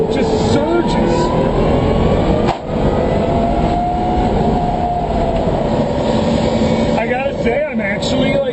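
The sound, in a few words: BMW M3 Electric Pikes Peak race car accelerating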